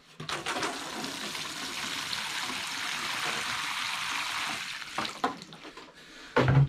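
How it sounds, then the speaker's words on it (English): Water pours steadily from a can or hose onto plants in a greenhouse, a close continuous splashing and trickling that tapers off before a couple of short bumps. "Give that a good water."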